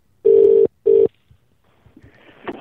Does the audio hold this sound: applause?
no